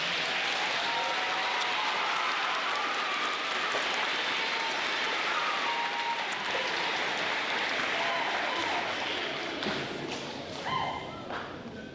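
An audience at a school awards ceremony claps in a sustained, dense round of applause that stays even for most of its length, then thins and tapers off near the end.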